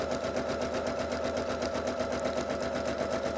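A sewing machine running steadily while stitching a variable zigzag for thread painting, a dense and continuous mechanical whir with a fast, even needle rhythm. It is close and loud, with no voices.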